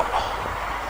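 A limited express train rumbles past nearby on a line beside rice paddies with a broad, steady roar and a faint rhythmic rattle of carriages on the rails.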